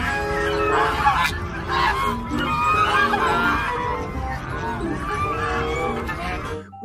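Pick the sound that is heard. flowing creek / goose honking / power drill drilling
goose honking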